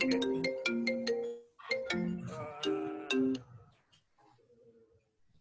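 A phone ringtone plays a repeating bright melodic chime pattern, loud and clear in two phrases before fading into quieter background murmur, during an online meeting about Mac computer issues.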